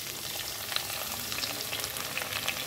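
Chopped onions hitting hot oil with fennel seeds, dried chili and cinnamon for a Malabar egg curry, a steady close crackling sizzle dotted with small pops, moderately quiet and without voices.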